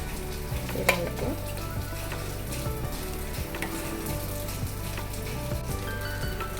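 Sweet potato and makhana kheer at a steady boil in a pot, a dense, continuous bubbling crackle with a few sharper pops, close and even throughout, with no voices.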